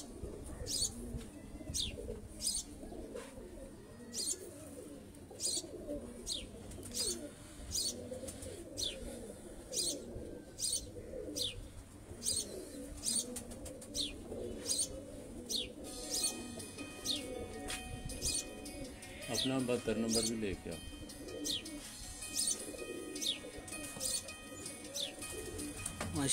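Shali-wale pigeons, a male and female pair, coo in repeated soft throaty rolls under close chirps and sharp ticks, while someone speaks briefly nearby.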